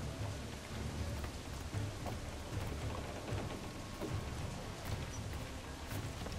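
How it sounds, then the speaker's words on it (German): Steady rain pours in a storm in the video game Assassin's Creed 4: Black Flag, a dense hiss with low rumbling thunder underneath, continuous and fairly quiet throughout. "Regen ist natürlich super geil gemacht"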